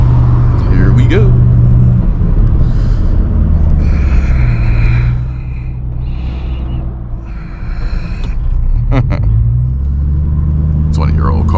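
A 2003 Mustang Cobra with a 500 hp engine rumbles steadily from inside the car while driving, a loud low drone that dips briefly and swells back.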